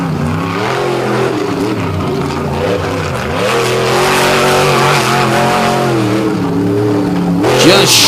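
Monster truck with a square-tube chassis, apparently missing front-wheel drive, revving hard on a beach track; a loud, sustained engine roar rises and falls through throttle bursts, with a sharp spike near the end.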